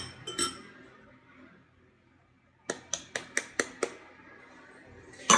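Homemade gummy mixture being stirred in a glass vessel, a few clinks early, then a quick run of six or seven sharp spoon taps and clinks against the glass, close and distinct.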